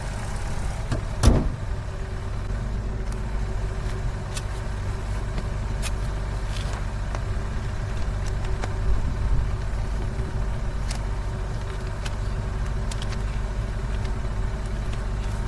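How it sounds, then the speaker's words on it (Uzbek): A Chevrolet Cobalt's engine idles steadily, a low continuous hum held throughout, with a sharp thud like a door near the start and a few faint clicks. "Mashinani faqat o'chirmaysiz, zavat qo'yib tursiz aka."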